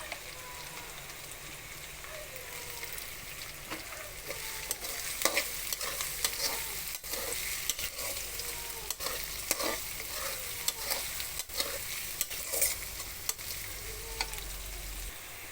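Chopped onion frying in a pan for restaurant-style chicken fried rice: a continuous close sizzle broken by repeated sharp spatula scrapes and taps, no voices.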